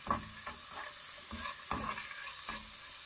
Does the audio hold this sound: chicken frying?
yes